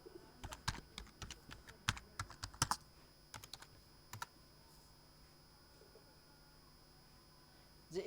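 Keys tapped on a computer keyboard in short irregular clusters of sharp clicks, typing into a search box, then a quieter stretch with only a faint background hum.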